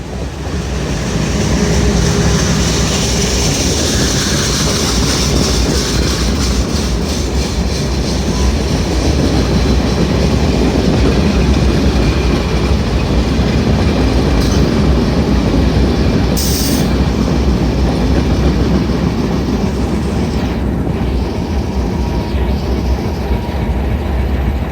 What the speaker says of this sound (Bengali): ট্রেনটি এখন নচ খুলে ছুটে যাচ্ছে